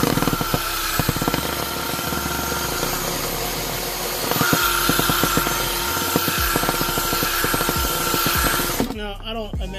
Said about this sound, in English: I want to see what happens when I strip this screw into here